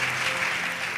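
A graduation convocation audience claps for a faculty prize winner, a dense, even burst of applause filling the room, loud and continuous with no voices.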